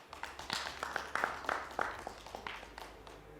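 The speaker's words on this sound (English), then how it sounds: "A big round of applause." Audience applause at a tech and electric-vehicle pitch event, a moderate round of scattered clapping with distinct individual claps, heard from a short distance and fading slightly toward the end.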